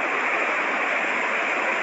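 The swollen Khingsha river rushes in flood, a dense, steady roar of fast water that fills the whole moment without break or variation, heard alone at close range.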